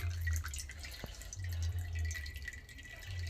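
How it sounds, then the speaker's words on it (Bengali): Water drained off boiled spinach in a kitchen, a steady low pouring rush with a short gap mid-way, and one sharp drip or clink near the middle. "জল ঝরিয়ে নেবো আমি।"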